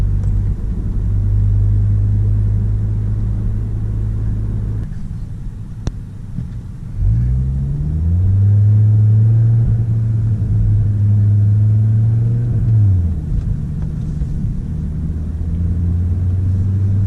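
An Audi RS3 five-cylinder engine drones steadily while driving. It briefly dips and then rises again with a throaty, rising note through a gear change before settling back to a deep, loud cruise. No talking is heard.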